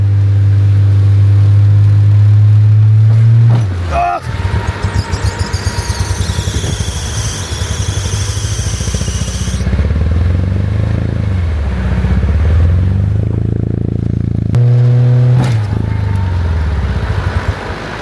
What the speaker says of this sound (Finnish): mä ajan tässä edellä ja Tuksu työntää traktorilla sitten